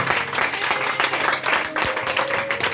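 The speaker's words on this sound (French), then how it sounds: "Acclame encore le Seigneur." Congregation applauding during a church sermon, steady dense clapping filling the space throughout with a faint tone underneath.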